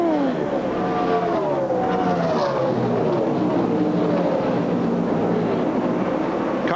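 A race truck roars past on the track during a 2004 NASCAR race, its engine note sweeping and shifting as it goes by, loud and close over steady crowd and engine noise, with no talk.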